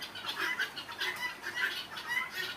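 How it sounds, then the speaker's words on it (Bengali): A flock of Tithi chickens on a bird farm clucks in quick, repeated calls as the birds run together, moderately close and without talk. "দেখতেই পারতাছেন তিথি মুরগি কীভাবে দৌড়ায়"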